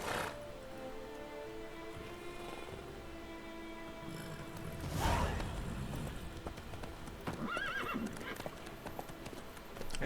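Horse hooves clip-clop steadily in The Witcher 3 while the horse whinnies, with a louder swell of galloping and neighing midway, set against quiet game ambience and faint music.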